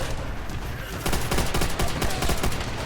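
Sustained gunfire in the World War II shooter game Call of Duty: World at War, a dense, loud rattle of rapid automatic shots from several weapons at once that thickens after the first second and keeps going without a break.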